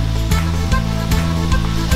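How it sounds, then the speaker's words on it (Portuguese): Loud, rhythmic scraping of a utensil across a frying pan while cooking shrimp pasta, repeated strokes about every half second over steady sizzling. "dá uma raspada na panela"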